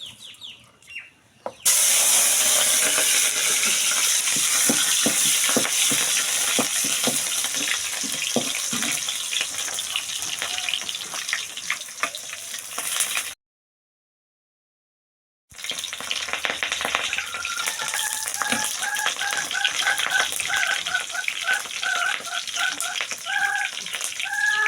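Sliced pointed gourd (potol) frying in a pan, a steady loud sizzle and crackle running on and on, briefly cut off midway before the hiss resumes just as strongly.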